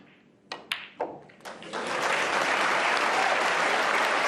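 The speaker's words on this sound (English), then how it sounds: "the applause is for the likelihood of this session ending 4-4" Audience applause at a World Snooker Championship last-16 match breaks out after a few scattered claps, then swells into steady, sustained clapping from a full crowd in the arena.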